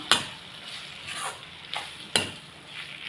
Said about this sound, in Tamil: இந்த ஒரு மாங்காய் துருவுனதை இதில் சேர்த்துருக்கேன். நான் நல்லா கிண்டி விட்டுருவோம்.